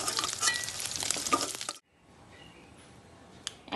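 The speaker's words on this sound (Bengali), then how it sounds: "মাছগুলো 2 পিঠই লাল লাল করে ভাজা হয়ে গেছে।" Pieces of rohu fish frying in hot oil in a kadai: a loud, crackling sizzle for almost two seconds, then it suddenly drops to a quieter, steady fry with a faint clink near the end.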